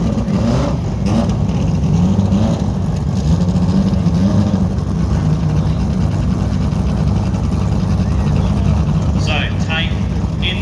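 A Mazda MX-5 drift car, smoking more and more as the day goes on, revs hard at a drifting event, its engine a loud, continuous roar throughout, with a commentator talking over it.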